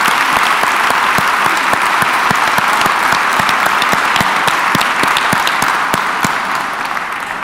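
Sustained, dense applause from a conference audience thanking a discussion panel at the close of a justice forum session, steady and loud throughout with no talk over it, easing slightly at the end.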